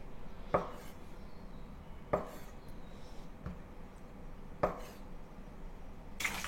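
A knife cuts silken tofu into half-inch slices, giving four or five sharp taps on a cutting board at a steady, unhurried pace over low background hiss.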